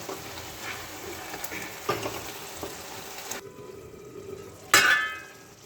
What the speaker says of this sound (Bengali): ঢাকাটা খুলে আমি আরও একবার একটু নাড়িয়ে দিলাম।